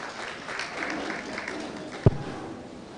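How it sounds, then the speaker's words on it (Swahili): An audience at a Kenyan awards ceremony for influential Muslims claps in a brief burst of applause with a sharp thump partway through, while an announcer's voice carries faintly over it. "Makofi kwa Amina."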